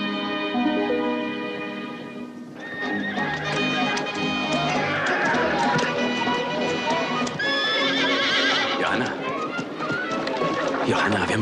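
Horses clatter past with hooves clip-clopping and one or more whinnying loudly, layered under a swelling orchestral score in a 1972 period film scene.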